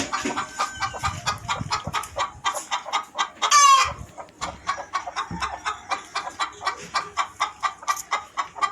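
A brooding hen clucks in a steady rhythmic series, close by, with a brief louder squawk partway through.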